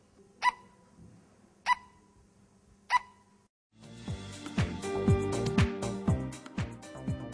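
Electronic circuit built by a student to imitate a barking dog, giving three evenly spaced, sharp synthetic bark-like beeps, followed by a denser burst of clattering, buzzy electronic sounds.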